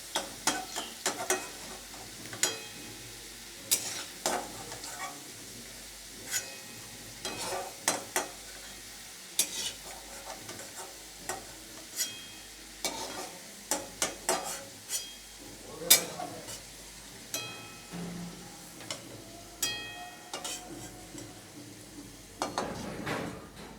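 Potatoes fry in oil in a home kitchen, giving a soft steady sizzle under repeated sharp clinks and scrapes of a utensil stirring against the pan, with no talk.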